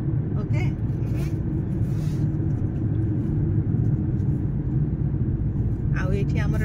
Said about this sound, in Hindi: गाड़ी चलाउचंती